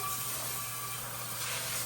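Water hisses and sizzles in a hot cast iron pan still on the stove, a steady, close, continuous spray-like hiss with no voices.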